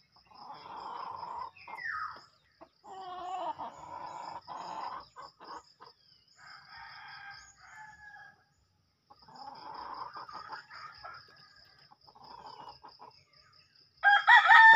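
A black chicken clucks and murmurs softly at close range, with a steady high-pitched insect or bird chirp repeating in the background.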